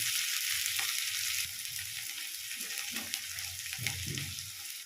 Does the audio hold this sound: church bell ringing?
no